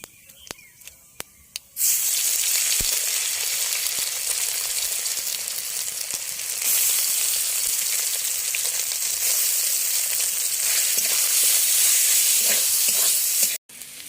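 Potatoes frying in oil tempered with whole cumin seeds, a few sharp ticks first, then a sudden loud, dense hiss and crackle that holds steady, growing a little stronger partway through before cutting off near the end.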